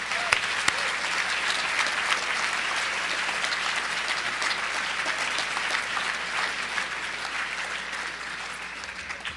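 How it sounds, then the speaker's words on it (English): An audience at a justice teach-in gives a sustained round of applause, a dense, steady wash of many hands clapping that fills the whole nine seconds at moderate volume, with no voices standing out. "Let's give a round of applause to those folks."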